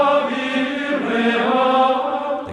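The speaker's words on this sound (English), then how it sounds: "what was sung in churches was a kind of chanting, which we know these days as plain chant." Gregorian plainchant sung in church, with a sustained choir of voices holding long flowing unison tones in a reverberant space, steady and moderately loud without pause.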